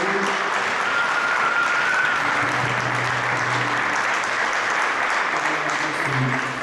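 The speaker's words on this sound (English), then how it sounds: "let's do a big round of applause" Steady applause from an audience at a Sunday love feast gathering fills the space, dense and continuous throughout, with faint tonal voices or singing drifting underneath.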